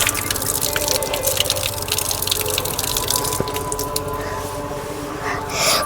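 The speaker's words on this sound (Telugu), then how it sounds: "ఇప్పుడు మేమైతే లెగ్స్ వాష్ చేసుకుంటున్నాము." Water splashes and drips steadily as people wash their legs at a Shiva temple in Rameswaram, a continuous close wet gushing with scattered drips and splashes throughout.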